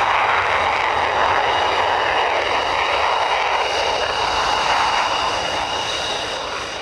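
Military aircraft roar over the Lutsk airfield, a loud, continuous broadband engine rush that holds steady for several seconds and then fades slightly toward the end.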